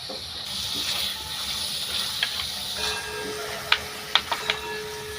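Potato balls dropped one by one into a spiced mixture in a pan: a steady loud sizzling hiss throughout, with a few sharp clicks and taps near the end as pieces go in.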